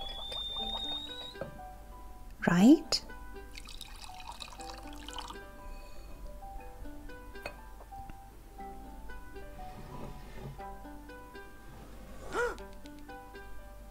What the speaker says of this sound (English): And then we just pour the water